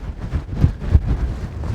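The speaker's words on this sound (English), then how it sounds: "Well, it really is windy now" Strong wind buffets the microphone outdoors on the Pennine Way in the Yorkshire Dales, coming as low, rumbling gusts that swell and ease over a couple of seconds.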